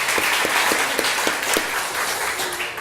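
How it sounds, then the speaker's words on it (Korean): A church congregation marking its 20th anniversary applauds, a moderately loud wash of hands with a few sharper, evenly spaced claps standing out in rhythm. "박수로 하나님께 영광 돌리겠습니다"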